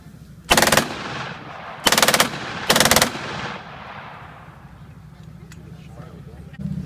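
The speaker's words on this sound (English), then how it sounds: "I will demonstrate the firepower of the Papasha" A PPSh-41 submachine gun fires three loud, short bursts at an outdoor weapons demonstration, each burst a rapid rattle of shots with echoing decay between them.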